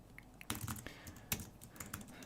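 Soft, quick keystrokes on a computer keyboard, a light clicking flurry with a few sharper taps, close by against a quiet background.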